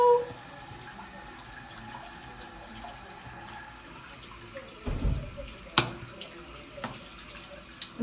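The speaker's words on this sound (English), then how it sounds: "I'm just gonna turn my water off right now." A bathroom tap runs quietly and steadily during a hair wash, then is turned off with a brief clunk and splash.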